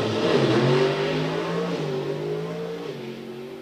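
Nitrous drag race car launching down the strip at an event, a loud, close engine roar rising in pitch through short-shifted gears, then fading slightly as the car pulls away.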